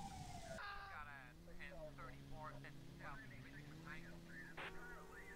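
A police car siren from the video game GTA wails in rising and falling sweeps beneath a man's continuous speech, with other game sounds in the background.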